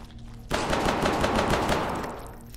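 Sustained burst of automatic gunfire in the video game Hidden Deep, a rapid run of loud, dense shots that lasts about two seconds after a quiet start and then tapers off.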